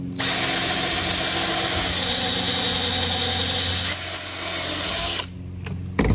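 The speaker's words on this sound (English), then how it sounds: "that's where I'm going to drill all these holes to" A power drill whines loudly and continuously for about five seconds drilling holes in a board for a campervan shower, then stops, followed by a few brief knocks.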